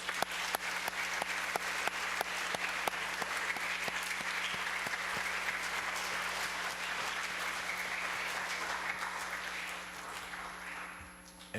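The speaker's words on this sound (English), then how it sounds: "let's have a nice round of applause." A school audience of families at a trimester event claps steadily for roughly eleven seconds, a warm wash of many hands with scattered sharper claps, gradually thinning toward the end with no talking.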